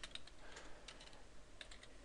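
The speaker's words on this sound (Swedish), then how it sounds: "Här kan du välja din egna startsida genom att skriva in hemsidaadressen i fältet." Someone types a web address on a computer keyboard, making a quiet, steady run of soft key clicks at close range with nothing else heard.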